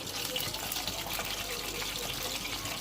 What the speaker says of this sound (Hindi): ये देखें हम फ्राई कर रहे हैं।